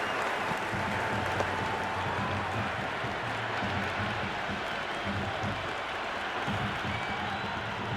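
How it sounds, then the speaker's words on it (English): A cricket stadium crowd at a Chennai Super Kings versus Mumbai Indians match cheers in a steady, dense roar with scattered clapping, continuous and distant-sounding, with faint voices underneath. "The crowd is electric right now."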